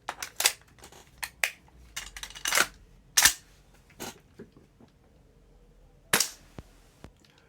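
Tokyo Marui MWS M4 gas blowback airsoft rifle with an upgraded Ace1Arms magazine firing 0.2 gram BBs: roughly ten sharp, loud cracking shots in irregular single and double bursts, with quiet gaps between them.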